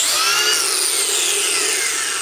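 A brushless angle grinder spins up under soft start, settling into a loud, steady high-pitched whine with broadband grinding hiss that holds for a couple of seconds, close by and with no talking.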